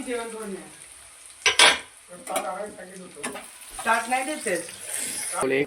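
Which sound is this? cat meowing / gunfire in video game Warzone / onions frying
onions frying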